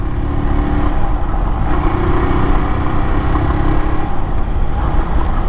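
A Kawasaki W175 motorcycle engine pulls hard in fifth gear while riding, a loud, close, continuous drone with a low throbbing tone that shifts slightly, mixed with steady wind rush and no talking.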